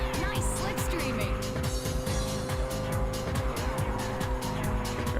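A racing car in Ridge Racer 7 roars close by with a pulsing, rhythmic engine note and tyre squeal while slipstreaming, loud and continuous over the whole stretch.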